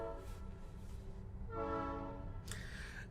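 A train passes with its horn sounding a few times, steady tonal blasts over a low, continuous rolling rumble, fairly quiet and held at a distance.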